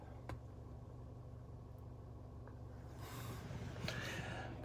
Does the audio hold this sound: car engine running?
yes